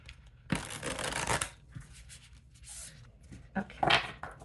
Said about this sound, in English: Let's do one more good shuffle here.